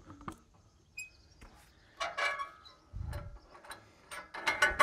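A sawmill log clamp is spun in reverse, giving a series of close metallic clicks, ratcheting rattles and clunks in irregular bursts with short quiet gaps between them.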